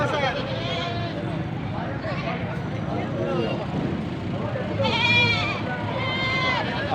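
Goats bleat at a livestock sale, with several wavering cries rising over a crowded background while people talk nearby, and one louder, sustained bleat near the end.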